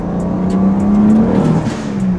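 A BMW E90 335i car engine with the N54 turbo six revs up hard and close, a loud rising drone that stays strong for a couple of seconds with no talking.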